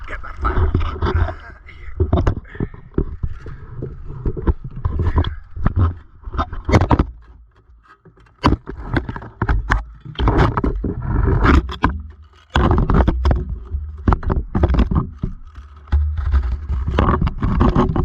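A roaring fire, lit to clear a vent, blasts close and loud in rough surging bursts with a brief lull midway, then roars on with crackling, scraping texture.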